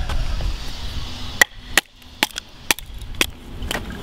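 A knife trimming a wooden spindle for a friction fire drill: a handful of sharp, close cuts and chops at irregular intervals over a low outdoor background, with no talk.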